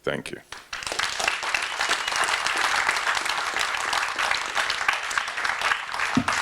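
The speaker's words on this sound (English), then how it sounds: "can I have another round of applause for all these folks, and for Taiji and for Isabella?" An audience at an artist discussion breaks into sustained applause, dense clapping that swells and holds for several seconds in an indoor hall.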